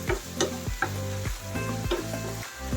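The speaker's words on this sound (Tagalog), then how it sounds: "Ayan, haluin natin siya." Shrimp and bean sprouts with oyster sauce sizzle steadily in a pan while a utensil stirs them, scraping in a regular rhythm of about two strokes per second, close and clear, with no talking.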